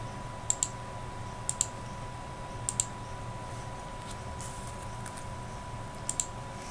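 A computer mouse clicks while a polygon is drawn in Google Earth, with sharp isolated clicks, often in quick pairs, spaced over steady background hum and no talking.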